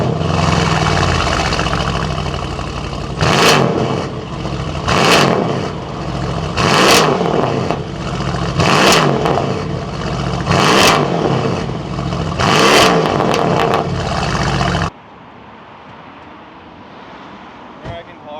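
An 800 bhp 2015 Dodge Charger Hellcat with a supercharged 6.2-litre V8 revs loudly and repeatedly close by, each blip swelling into a whining roar and falling back, about seven in a row, before cutting to a quieter idle.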